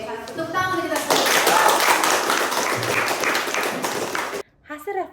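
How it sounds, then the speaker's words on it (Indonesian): Students in a classroom clap together in one loud burst of about three seconds, with children's voices just before and a speaking voice right after it stops. "tepuk tangan kita semua"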